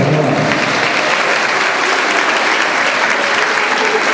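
A school audience claps steadily and loudly at a primary school end-of-year ball at OŠ Ob Dravinji in Slovenske Konjice in 2008. The dense applause runs unbroken and close throughout, with only a faint murmur of crowd beneath.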